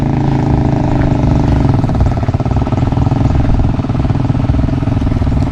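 A motor engine runs steadily and loudly close by, a continuous throbbing drone with fast regular pulses and no change in speed.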